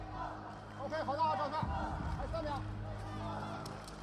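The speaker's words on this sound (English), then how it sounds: "Crowd behind us, now in front of us, getting involved." Spectators at a taekwondo Grand Prix semifinal in Manchester, a men's under-58 kg bout, cheer and murmur as a steady crowd swell under a commentator's talk.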